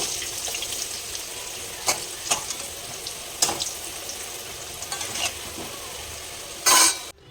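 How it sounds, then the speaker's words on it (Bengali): Potatoes fry in a pan on a home stove with a continuous close sizzle. A few sharp scrapes and clanks of stirring break through, and a louder burst comes near the end. "আর এদিকে দেখুন আমার আলুটাও মোটামুটি ভাজা হয়ে যাচ্ছে।"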